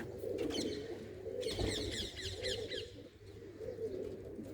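Soft, low pigeon coos repeat over a steady background, with a few brief chirps higher up and a faint flutter partway through.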